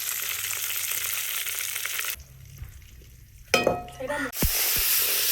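Fenugreek and fennel seeds dropped into hot oil after frying fish, a loud steady sizzle that dips, then bursts into sharp crackling and clattering of a utensil before the frying hiss returns.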